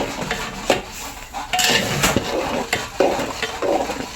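A spoon stirs spinach dal mixed with green chilli paste in a pot, giving scraping sweeps and several sharp metallic clinks against the sides, close and uneven in rhythm, with no talking.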